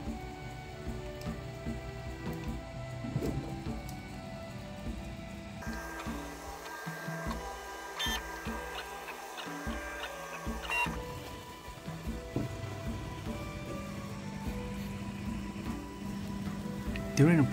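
A Sovol SV06 3D printer prints a PLA calibration piece, its stepper motors whirring and buzzing in shifting tones with short rhythmic bursts, fairly quiet and steady throughout.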